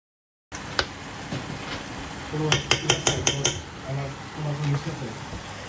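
Utensil scrapes and a quick run of light clicks as fish is carefully flipped in a cooking pan at home, brief clinks over a low sizzle with faint background chatter.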